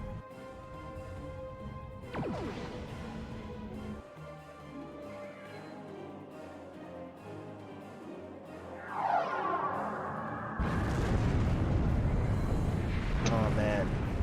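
Starship weapons fire and explosions in the space game Star Trek Online: whooshing energy blasts with sweeping tones, then a loud sustained explosive rumble. Voices speak over the effects and a background drone.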